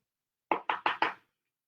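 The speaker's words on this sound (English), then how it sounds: "No, my dog is at the door. You hear him?" A dog knocking or pawing at a door, making four quick, evenly spaced thumps, fairly close, with nothing else around them.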